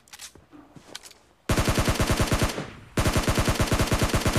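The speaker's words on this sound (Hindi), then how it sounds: "नीचे से फायर के मुझको साउंड आया था" Gunfire in the mobile battle-royale game PUBG Mobile: after a few faint distant shots, two loud, close bursts of rapid automatic fire ring out, separated by a short pause.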